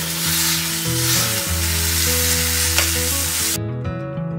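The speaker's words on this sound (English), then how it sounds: "while my sausage is browning" Sausage browns in a hot pan with a steady, close sizzle and crackle that cuts off abruptly near the end, leaving only a low hum.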